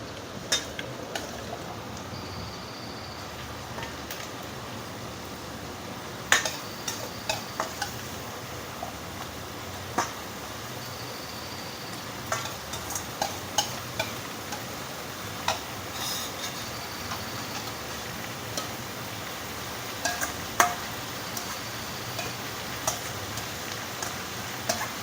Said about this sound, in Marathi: तर आता याला चांगलं तेलामध्ये परतून घ्यायचं आहे कांद्याबरोबर